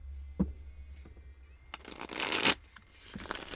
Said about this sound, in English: Oh, that's not a very good shuffle.